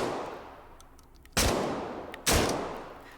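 Two loud shotgun blasts in the VR game H3VR, fired about a second apart, each a sharp close boom with a long fading tail, over faint background ambience.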